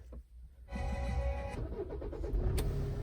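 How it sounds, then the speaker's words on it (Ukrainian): A 2011 Hyundai ix35 with a 2.0 diesel engine cranks briefly and fires, then settles into a steady, close idle that stays loud after the start. "Заводиться добре."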